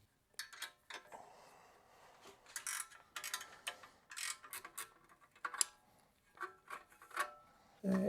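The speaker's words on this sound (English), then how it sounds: "the rear head pipe is two pieces separated by a clamp that you undo with a 10 millimeter ratchet" 10 millimeter ratchet undoing an exhaust head pipe clamp on a motorcycle, a faint, close series of irregular clicking bursts with short pauses between them.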